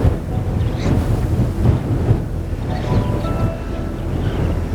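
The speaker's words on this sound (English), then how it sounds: "This wind is ridiculous." Strong, gusty wind roars steadily across open Kansas public land during a decoy hunt, buffeting the microphone with loud low rumbling throughout and no voices.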